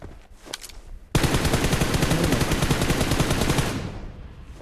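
Automatic weapon fire in the battle royale game PUBG rips out in one loud, sustained burst of rapid shots lasting a few seconds after a brief earlier rattle, then cuts off.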